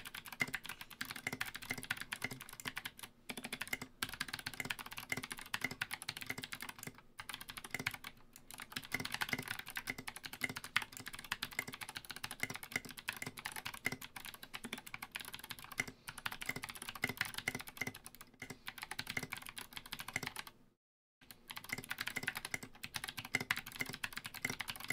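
Fast, steady typing on a mechanical keyboard with clicky switches and SA keycaps and Mill-Max hotswap sockets, a dense stream of close crisp clacks with only brief pauses, no voices.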